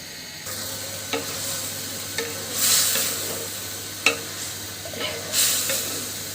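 Winter vegetables sauté in a pan over raised heat, with a continuous hissing sizzle and several distinct stirring scrapes at intervals, close and fairly loud.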